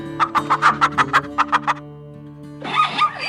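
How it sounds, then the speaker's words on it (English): A farm hen clucks in a quick series of about ten sharp, rhythmic clucks, pauses, then a short burst of rougher vocalizing, close and clear. "This is hen."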